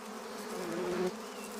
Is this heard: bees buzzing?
yes